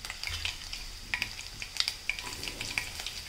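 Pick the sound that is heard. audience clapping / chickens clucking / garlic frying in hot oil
garlic frying in hot oil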